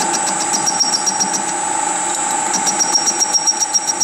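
Engine of a machine under repair running steadily at a low 400 rpm, a constant mechanical hum with a faint rhythmic rattle and vibration, close and continuous with no talking.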